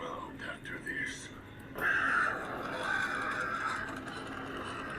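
Crows caw from a tall Sinister Strawman Halloween animatronic in a Spirit Halloween store, harsh calls rising over a noisy shop background with faint voices.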